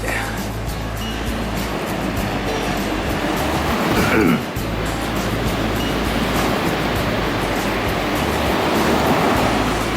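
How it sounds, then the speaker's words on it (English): Black Sea waves at Varna, Bulgaria wash and roar steadily against the shore in cold, windy weather, a continuous loud surf with a stronger surge midway. "Here's the Black Sea."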